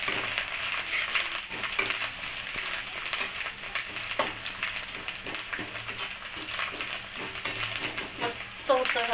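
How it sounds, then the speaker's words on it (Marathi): Coriander frying crisp in hot oil, a dense continuous crackle and sizzle close by, with occasional stirring scrapes. "हा कोथंबीर व्यवस्थित त्याला कुरकुरीत होऊ द्यायचा"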